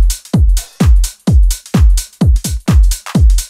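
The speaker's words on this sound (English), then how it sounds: "All right, so all of the hats and claps so far." House drum loop built from 909 hi-hats and claps playing slightly varied patterns with little 16th-note hats, carried on steady punchy kick-like hits about every half second, loud and alone with no talk.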